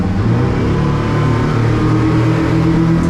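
A boat engine roars loud and steady while it accelerates hard onto plane from a standing takeoff, with a continuous low, throaty drone that holds without pause.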